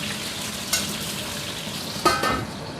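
Eggplant sizzles and crackles as it fries briefly in a modest amount of oil, a steady close hiss broken by two sharper spits and stirring sounds.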